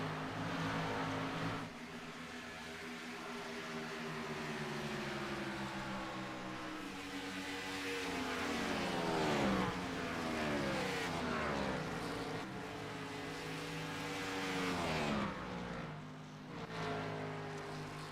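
NASCAR stock cars roar around Texas in the iRacing sim, engines droning steadily with rising and falling pitch as cars pass close by, loud and continuous.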